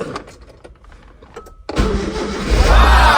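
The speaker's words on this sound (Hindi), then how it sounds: "हम सोच रहे हैं इसको थोड़ा सा सेल्फ मार लें ताकि थोड़ी सी स्टार्ट हो जाए" A Maruti Eeco van that has stood unused for about a month and a half cranks on its self-starter and catches, the engine bursting into a loud, close, steady running roar after a quieter lead-in.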